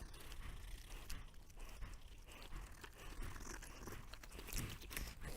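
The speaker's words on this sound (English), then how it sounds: "you have my dog chewing the tree" A dog gnaws and crunches on a tree outdoors, a close, steady run of chewing, biting and tearing sounds with brief crackles throughout.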